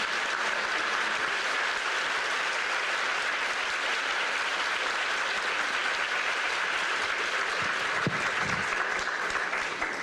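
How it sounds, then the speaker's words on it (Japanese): An audience gives a large round of applause to welcome a speaker at a lecture in Shimabara, the clapping dense, steady and continuous for the full ten seconds. "皆様盛大な拍手でお迎えください。"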